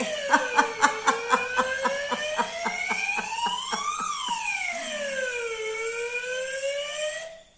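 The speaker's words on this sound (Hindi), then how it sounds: "उन बच्चों में से किसी एक बच्चे ने अपने मोबाइल में सायरन की आवाज रिकॉर्ड कर ली थी" A wailing siren with rising and falling pitch, thin and tinny as if played through a small phone speaker, with rhythmic bursts early on.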